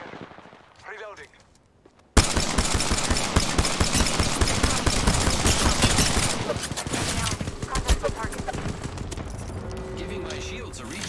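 Rapid bursts of gunfire from base guns in an arena shooter match, a near-continuous loud barrage after a brief quiet opening, with game voice callouts mixed underneath.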